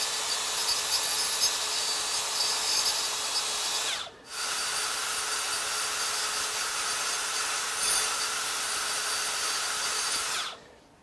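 A Makita XSB01Z 18V brushless belt sander, a 3/8 x 21 inch power file, grinds the seam out of metal tubing with a loud steady high whine, briefly cut off once midway and then resumed before stopping.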